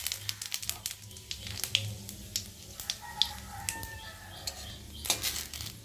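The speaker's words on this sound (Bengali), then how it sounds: "এখন ফোড়নে দেবো আমি জিরে ফোড়ন, আর দেবো তেজপাতা" Cumin seeds and bay leaf sputter in hot oil in a kadai, with quiet, scattered sharp crackles and pops over a faint low sizzle.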